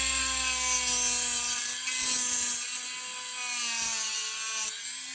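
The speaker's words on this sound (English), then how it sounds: "Turn the Dremel." A Dremel rotary tool fitted with a cutting disc cuts through a metal shoe shank with a loud, steady high-pitched whine. The grinding pitch dips briefly under load a few times as the disc bites in.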